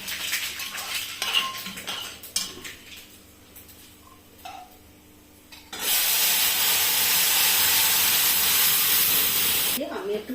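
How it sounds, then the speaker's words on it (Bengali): Chillies and black mustard seeds hit hot tempering oil for sambar, giving a sudden loud, steady sizzle that lasts several seconds, after quieter clinks of utensils and a pan. "আমি লঙ্কা দিচ্ছি ফোড়নে, আর আমি একটু কালো সরষা দিচ্ছি"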